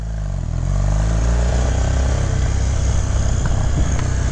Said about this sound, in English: Electric start, fires right up,